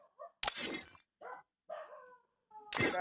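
A dog barks loudly in short, harsh bursts, with a few softer yelps between them, close by and heard alone.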